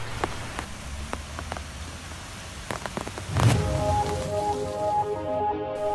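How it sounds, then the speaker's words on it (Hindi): Steady rain patters on a surface, with scattered drops and a denser, louder patch of rainfall building midway through. "अचानक से बारिश शुरू हो गई।"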